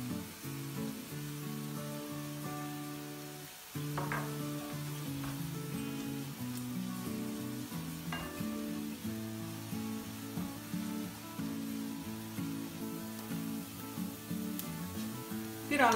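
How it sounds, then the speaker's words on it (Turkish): Onions sautéing in a pan with a little salt, a faint steady sizzle running throughout beneath louder background music. "Şimdi soğanlarımızı güzelce soteleyelim."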